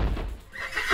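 A horse neighs in the video game Minecraft, one short loud whinny close up with no talking.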